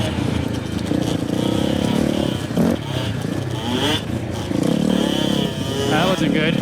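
A dirt bike on a trail with whoops, the engine revving and dropping in bursts with clatter and scraping as the rider loses balance, up close, with voices at times.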